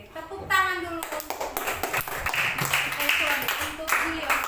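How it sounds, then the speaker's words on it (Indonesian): Children clap in a classroom during a lesson on magnets, a burst of hand claps under lively talk and chatter from the kids, with a whistle-like tone at the start. "tepuk tangan dulu"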